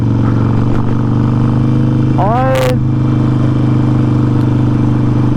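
A Harley-Davidson Forty-Eight motorcycle engine rumbles steadily at idle, loud and close, with a brief rising whine passing over it midway.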